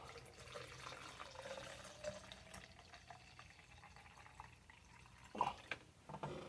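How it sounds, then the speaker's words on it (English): Water pouring into a shaker bottle holding energy drink powder, a steady close fill with a rising pitch as the bottle fills, ending in a few louder splashes and knocks. "And then you're going to take your water and start filling it up."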